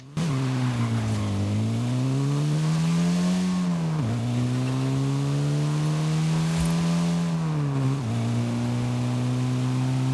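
A Morris Mini-Traveller's 0.85 litre, 34 horsepower engine in Forza Horizon 5 drones steadily and loud, its pitch rising and dipping with gear shifts roughly every few seconds, with no talking.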